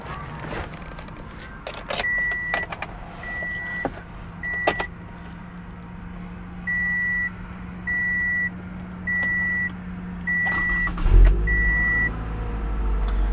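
A 2016 Toyota Camry XSP with keyless entry and a 2.5-litre inline-four: a few door and cabin clicks, then a run of evenly spaced electronic chimes, before the engine cranks and settles into a low, quiet idle at the end.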